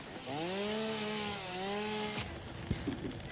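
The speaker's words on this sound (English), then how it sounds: "I do think the chainsaw is really loud" Chainsaw in the Satisfactory factory-building game, a steady revving whine holding for about two seconds with a slight pitch dip, then cutting off abruptly into a few clattering knocks.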